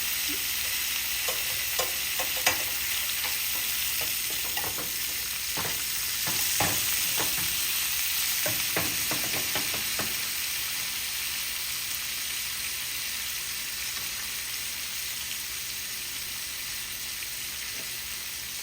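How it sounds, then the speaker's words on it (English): Plant-based butter sizzles steadily in a frying pan, a bright continuous hiss with a few scraping stirs in the first half, then settling into an even, moderately loud fry with no talking. "I'm going to add some butter, plant-based butter."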